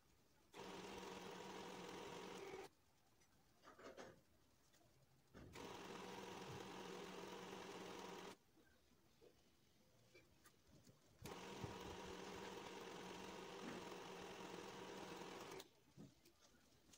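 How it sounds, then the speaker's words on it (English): A sewing machine stitches down the front seam of a jilbab, running in three steady bursts of whirring with short quiet pauses between, close and fairly loud, no talk. "So I'm just sewing that down."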